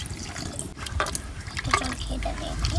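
Water, including the water used to rinse the spices, pours into a bowl of spice mix for a village-style rohu fish bhapa, giving a short splashing, trickling gush up close.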